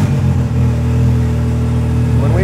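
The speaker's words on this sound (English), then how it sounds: "So let's check out how it runs now on the dyno" A tuned 2018 Can-Am X3 with its catalytic converter deleted runs hard on a chassis dyno, giving a loud, steady, close engine drone that holds at high revs throughout with a slight rise near the end.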